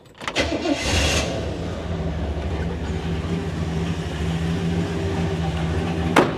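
A 1966 Chevrolet Impala SS with a small block V8 and a 3-speed automatic cranks briefly and fires up, then settles into a loud, steady, rumbling idle close by.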